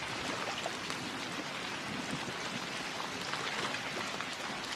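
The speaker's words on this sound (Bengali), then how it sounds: "প্রাণপণে নৌকা বাহিতে লাগলো" A boat rowed hard through water on a rainy night in a cartoon, a dense steady wash of rain and splashing water throughout, fairly close and even, no voices.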